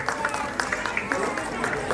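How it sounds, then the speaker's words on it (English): A school annual day audience claps to welcome an MLA onto the dais, scattered claps over crowd murmur, fairly distant and soft. "Let us welcome him onto the dais with a round of applause"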